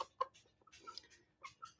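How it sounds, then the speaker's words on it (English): Backyard chickens cluck softly in short, scattered bursts, faint and fairly close, with quiet gaps between calls and no voices. "I'm gonna go put my chickens away."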